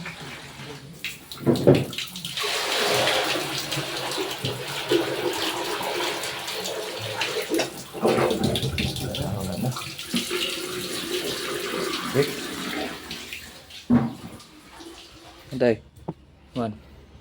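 Water flows and gurgles through a household drain pipe in a home whose toilets are clogged by wet wipes, rising and falling in surges, with people talking over it.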